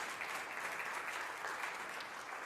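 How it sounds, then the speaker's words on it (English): Steady, fairly soft applause from an audience at an award ceremony, a continuous wash of clapping heard from a little distance. "So round of applause just for that,"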